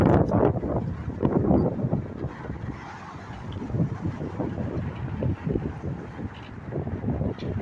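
Strong wind buffets the microphone in loud, uneven gusts throughout at a railroad crossing on a cold day, roaring without pause.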